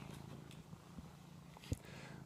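Soft, steady purring from a male cat close by, low and continuous with a couple of small bumps and rustles, no voices.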